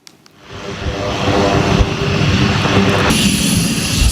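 A US Air Force B-1 Lancer bomber lands at a British military base, its jet engines building into a loud, broad continuous roar that swells over a few seconds and holds steady, with no talking.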